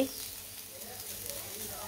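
Potatoes frying in a pan give a steady, close sizzle with a soft crackling hiss that holds at an even level for the whole stretch, with no voices over it.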